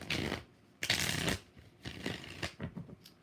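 Tarot cards being shuffled by hand in several quick riffling bursts, close and fairly soft, separated by short pauses.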